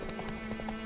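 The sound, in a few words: Roach the horse galloping in The Witcher 3 video game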